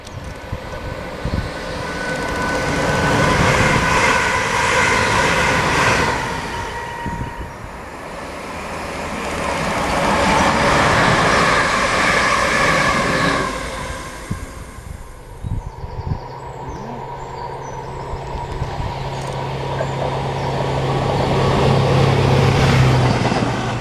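Bletchley to Stafford passenger train on the Northampton Loop, a long rising and falling roar of a train passing nearby, swelling twice over twenty-odd seconds with a steady low engine hum near the end.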